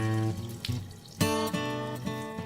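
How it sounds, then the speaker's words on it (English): Sanitizer solution is emptied from bottles into a sink, splashing and gurgling up close in a short run of pours. "When you've sanitized all the bottles, empty them into the sink."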